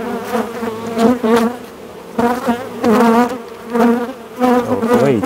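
An agitated honeybee colony buzzes loudly around an opened hive during queen caging, a dense, wavering hum with rising and falling swells that stays close and continuous throughout.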